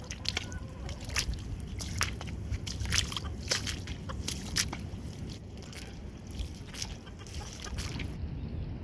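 Ducks quack and chatter in a noisy outdoor farmyard mix, scattered calls overlapping with rustling and background rumble.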